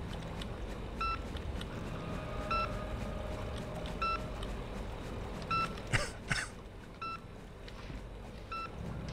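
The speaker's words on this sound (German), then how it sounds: "Da piepst was." Short electronic beeps repeat at a steady interval of about one and a half seconds inside a wrecked subway setting in the game Infra, with a low background hum and a couple of brief soft bumps midway.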